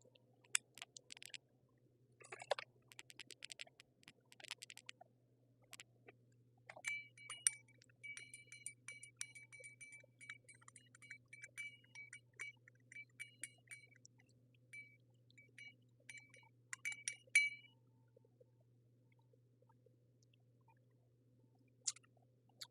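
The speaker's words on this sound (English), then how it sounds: "let's get our bar spoon and mix that all up" A bar spoon stirring an old-fashioned cocktail with aromatic bitters in a glass, giving a quiet run of rapid, close clinks and ticks of metal against glass that fade out into near silence.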